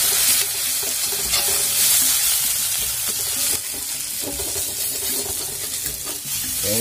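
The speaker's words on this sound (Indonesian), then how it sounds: "Kita goreng dulu bumbunya sampai matang." Indonesian spice paste (bumbu) fries in a hot pan: a loud, steady sizzle and crackle with scraping stirring strokes and a few brief clatters, close up and without talking.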